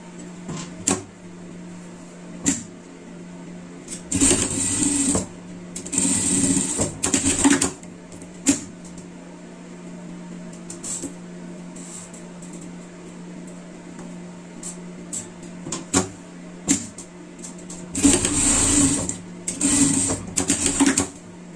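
Sewing machine stitching the seams of blue fabric animal ears, running in short close bursts separated by pauses, with scattered handling clicks and knocks in between.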